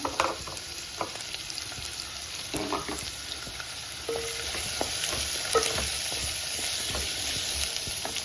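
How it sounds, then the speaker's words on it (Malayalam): Two medium onions frying in coconut oil for a soybean kurma, a steady hiss of sizzling with occasional clinks and scrapes of a spoon stirring, close by and fairly even throughout with no talk. "ഞാനിപ്പോൾ വെളിച്ചെണ്ണ ഉപയോഗിക്കുന്നത് അതിൻ്റെ അകത്തോട്ട് ഒരു രണ്ട് മീഡിയം സൈസ് സബോള ആയിരുന്നു വെച്ച് കൊടുക്കുക"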